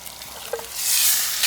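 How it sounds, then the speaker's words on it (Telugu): Country chicken, washed with lemon and salt, drops into hot oil for a curry, setting off a short clatter and then a loud, steady sizzle that swells and holds close by, with no talk over it. "ఇలా నీట్గా కడిగి పెట్టుకున్న నాటుకోడిని ఆయిల్లో వేసుకోవాలి."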